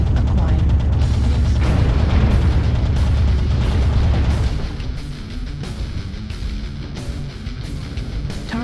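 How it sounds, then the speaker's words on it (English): Artillery airstrike explosions from a video game roll out as a heavy, continuous rumble of booms for several seconds, then thin into lighter scattered blasts and crackling debris. "We're gonna artillery strike these guys. Airstrike activated."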